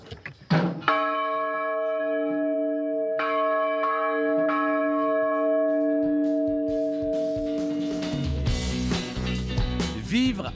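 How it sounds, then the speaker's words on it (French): A fifteenth-century bell in an abbey belfry is struck once, then again, each blow leaving a long, rich, humming ring that lingers and fades, followed near the end by close handling and knocking noises. "Au centre du beffroi, trône une magnifique cloche du XVe siècle."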